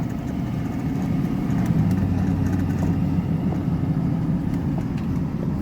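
A car drives down the road after a brake caliper replacement, giving a steady low engine and road rumble from inside the cabin with no talking.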